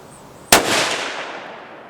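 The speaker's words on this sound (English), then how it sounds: "I'm going to go ahead and shoot out the bottom left bullseye on that target." A Howa 1500 rifle chambered in 6.5 Creedmoor fires one loud, sharp shot on a shooting range, the report ringing out and decaying over about a second and a half.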